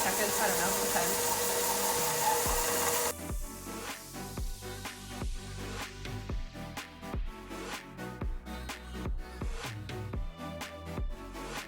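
An electric mixer creams butter and brown sugar for chocolate chip cookie dough, giving a loud steady whirring for about three seconds before a person starts talking over quieter kitchen clatter.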